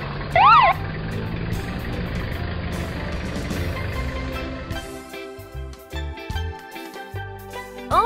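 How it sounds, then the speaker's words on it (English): An ambulance siren gives a brief rising and falling wail near the start, then a shorter burst at the end, over a rumbling engine and background music. "Ambulance"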